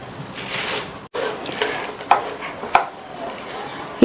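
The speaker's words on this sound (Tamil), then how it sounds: "எல்லாம் நல்லா ஒண்ணா மிக்ஸ் ஆகுற மாதிரி ஒரு அகலமான கரண்டியை வச்சு இது மாதிரி கிண்டிருங்க" A wide ladle stirs a puffed rice mixture sweetened with cardamom powder in a metal pot, with continuous scraping and a few sharp clinks of the ladle against the rim.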